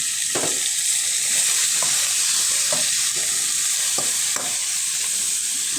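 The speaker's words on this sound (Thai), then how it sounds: "ทอดหมูนะครับผม" Pork belly marinated in fish sauce frying in hot oil over a flaring fire, a loud, steady broadband sizzle with periodic scraping stirs, no talk.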